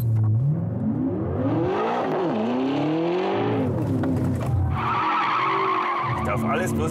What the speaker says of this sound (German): Das war ein minimaler, war ein kleiner Drift.